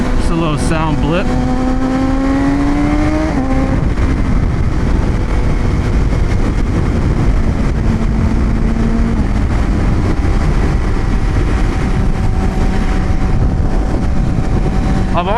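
A 1000cc motorcycle engine revs and accelerates, with rising and falling tonal engine whine over steady road and wind noise, loud and continuous throughout.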